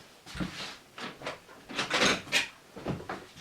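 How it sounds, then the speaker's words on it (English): A doorknob rattling on a door inside a house, a series of close metallic clicks and jiggles in uneven bursts, with no talking. "So he heard the doorknob rattling like that."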